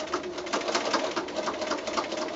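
A sewing machine runs steadily, stitching an angled line across a small quilted fabric mitt, with a fast, even needle rhythm close by and no talking.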